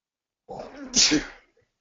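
A single sharp sneeze, a brief inhale building into a loud burst, then silence.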